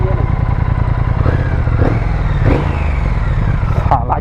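A Triumph Speed Twin 1200 twin-cylinder motorcycle engine runs close by with a smooth, steady low throb and a few light blips in revs.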